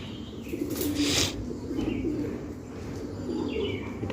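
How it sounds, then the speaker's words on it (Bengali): A domestic pigeon kept in a vlogger's flock coos softly over a low background hum, with brief rustling or wing flutter near the start. "এখানে একটি সুন্দর কবুতর"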